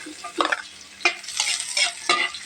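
Chicken feet sauté in a hot pan, with several bursts of stirring and sizzling as the pieces are scraped and turned, close and moderately loud, without any talking.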